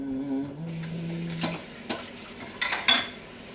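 Dishes and cutlery set down in a kitchen sink, a few sharp clinks and clatters of metal and crockery spread over a few seconds in a kitchen with a low background hum.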